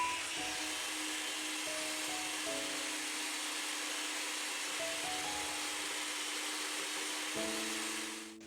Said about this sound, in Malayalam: ആദ്യമേ 1 മിനിറ്റ് നേരം ഈ മുട്ട തന്നെ ഒന്ന് ബീറ്റ് ചെയ്തെടുക്കാം.